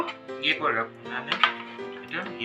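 A nonstick induction-compatible kadai and bowl set being unboxed, with light metallic clinks and the clatter of cookware being handled under steady talking.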